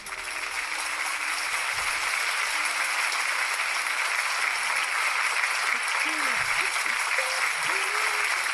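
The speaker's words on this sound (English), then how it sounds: "Let us receive with great joy in our hearts and a tumultuous applause Dr. Hak Jahan Moon" Sustained, loud applause from a large rally audience welcoming a speaker, steady broadband clapping throughout with a few faint voices and calls rising over it near the end.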